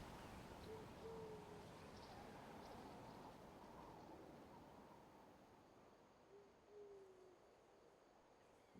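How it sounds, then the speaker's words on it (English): A cuckoo soar bird creature in Genshin Impact gives soft, hooting calls in two faint groups, one early and one later, over a quiet game ambience. "that's a cuckoo soar. They fly high and fast, and they're always full of energy."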